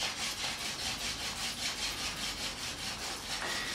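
Wooden spindle spun by hand on a fireboard in a bushcraft hand drill friction fire, giving steady rapid rhythmic rubbing strokes, close and continuous with no talking.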